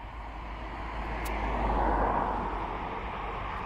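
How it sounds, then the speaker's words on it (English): An EasyJet Airbus A320 airliner at East Midlands Airport, a broad distant jet roar with a low rumble that swells and then eases slightly, steady and moderately loud with no voices. "We got an EasyJet A320"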